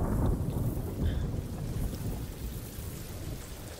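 Heavy rain in the Ghost of Tsushima video game, a steady loud downpour with a deep rumbling low end that eases slightly toward the end, no talking.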